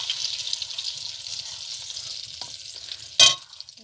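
Oil sizzles steadily in a wok as an egg fries for chowmein, a continuous bright hiss with a brief loud burst of crackling near the end.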